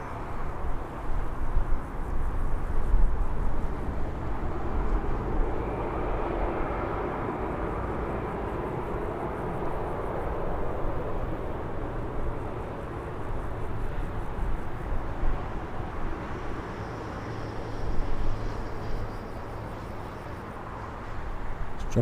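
An EasyJet airliner moves onto the runway at Birmingham Airport, heard as a steady, distant jet rumble that holds throughout with slight swells and no talking.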